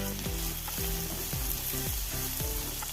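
Oats upma with green peas gets mixed and stirred in a pan, a spoon scraping in regular sweeps over a soft steady sizzle, close and moderately quiet.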